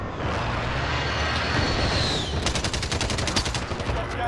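Rapid bursts of automatic gunfire in a battle royale video game crackle in a dense, evenly spaced string during the second half, after a stretch of steady background noise with a brief rising whine.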